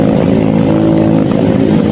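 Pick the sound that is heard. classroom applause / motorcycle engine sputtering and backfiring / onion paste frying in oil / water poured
motorcycle engine sputtering and backfiring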